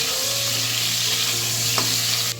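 Salted mango chutney stirred in a pan, a steady close sizzle with faint scraping, a low hum running beneath and a brief clack near the end.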